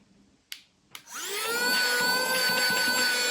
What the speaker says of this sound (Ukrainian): спеціально вже пилососив, щоб подивитися, як він працює, як міняються фільтри